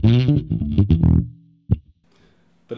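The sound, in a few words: bass guitar through Lounsberry Mo Bass pedal with light drive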